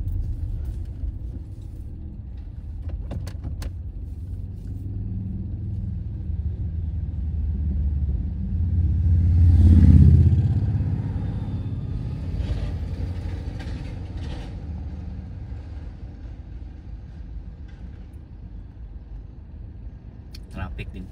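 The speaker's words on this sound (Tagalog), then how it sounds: "Traffic dito sa town mga hapon." Car traffic moving through a town in Manchester, a low steady rumble of engines with one vehicle passing close and louder midway, under a person talking.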